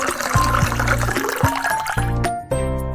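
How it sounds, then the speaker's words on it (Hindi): Water pours and splashes into a bowl as potato wedges are washed by hand, with a running, gurgling flow that briefly cuts out and resumes, close and fairly loud. "एक बोल में सारे वेजेस को रख के हम पानी से अच्छे से वॉश कर लेंगे।"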